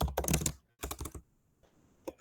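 Bursts of rapid, close keystrokes on a computer keyboard while code is typed, separated by brief pauses, then a final couple of taps.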